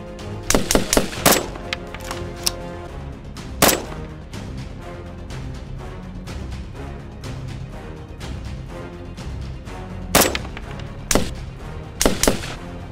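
Gunfire in the console edition of the video game Unturned, loud sharp shots in a quick opening burst, a lone shot, then more clustered bursts near the end over a busy game background.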